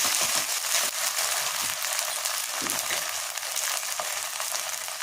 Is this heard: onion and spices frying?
yes